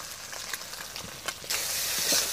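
A Bengali breakfast dish frying in ghee with garam masala sprinkled on top: a steady close sizzle with scraping stirring strokes that swells louder toward the end, with no talking.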